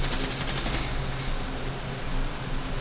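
Gunfire from the video game Ghost Recon Wildlands: rapid bursts crackle through the opening second, then a steady wash of loud, dense battle noise carries on to the end.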